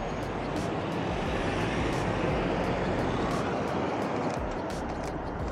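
Steady traffic noise with cars passing along a street in Brisbane, a continuous broadband roar without clear gaps, no voices.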